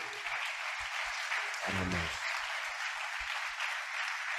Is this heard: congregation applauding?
yes